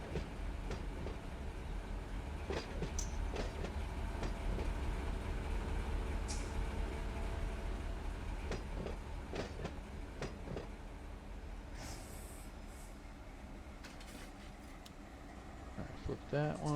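Locomotives moving in the Run8 train simulator, a low steady diesel rumble with rail clicks and scattered metallic clanks, fairly quiet and continuous.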